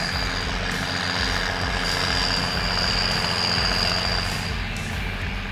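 A heavy diesel engine of a 2005 Massey Ferguson 8480 continuously variable tractor runs steadily at a constant low rumble, loud and close, with no voices.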